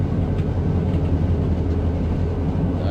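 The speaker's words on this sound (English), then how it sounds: "that was the Amtrak going west" Westbound Amtrak train in the Run8 train simulator, a steady low rumble of passing railcars, loud and continuous with no talking.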